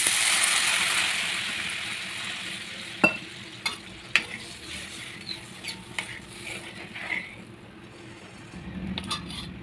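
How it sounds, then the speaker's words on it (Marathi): Water goes into green chilies frying in oil, setting off a strong hissing sizzle that slowly dies down, followed by a series of sharp scraping and clinking stirs in the pan. "आता ह्याच्यामध्ये आपण टाकूयात पाणी."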